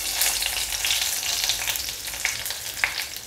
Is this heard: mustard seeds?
yes